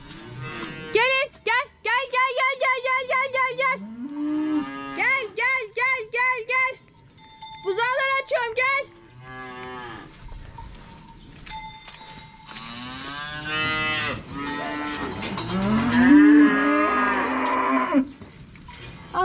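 Several cows and calves on a Turkish village farm mooing repeatedly, with long drawn-out calls close by and overlapping, while someone talks to the animals between the calls.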